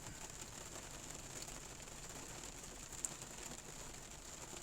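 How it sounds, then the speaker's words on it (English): Rain falls outdoors in cold weather as a faint, steady patter with a soft hiss and an occasional sharper drop, with no talking. "I'm out here in the rain, and it's cold"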